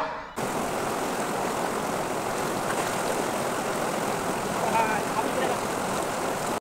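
River water rushing steadily and loudly at close range as someone steps into the river, a dense continuous wash with no clear voices.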